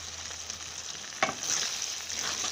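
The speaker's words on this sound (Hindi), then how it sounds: "बस अदरक डाल के तो हमने इसको भून लेना है, इसकी अच्छे से भुनाई कर लेनी है" Ginger crackles and sizzles in a karahi for meat karahi, a steady close frying hiss with one sharp knock of a spoon on the pan partway through, no voices.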